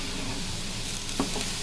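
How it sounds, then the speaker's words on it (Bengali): Prawns and potatoes frying with spices beside red amaranth greens in a pan, a continuous close sizzle with a low hum and a brief stirring clatter near the end. "এখন চিংড়ি মাছটা কষিয়ে নিচ্ছি ভালো করে মশলা দিয়ে, আলু দিয়ে।"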